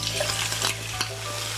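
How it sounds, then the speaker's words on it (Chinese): Vegetables pan-frying beside seared king oyster mushrooms for a warm scallop salad, a steady loud sizzle with brief scraping stirs, close up with no talking. "我们现在把我们的这些蔬菜一样下来煎"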